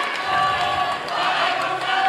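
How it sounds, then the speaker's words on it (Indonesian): Audience at a presidential debate in Indonesia breaks into clapping and cheering, a loud, dense crowd sound with shouts rising and falling over the steady applause. "silakan beri tepuk tangan yang meriah dulu untuk sesi tanya jawab tiga calon presiden ini"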